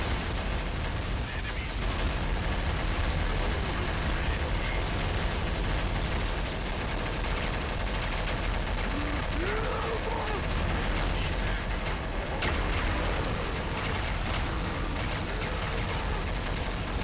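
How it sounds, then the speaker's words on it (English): Dense, sustained gunfire from a Counter-Strike: Source match, a continuous barrage of overlapping shots at steady loudness throughout, with no distinct pauses. "Shout out to Prakar if you can hear me over all this gunfire."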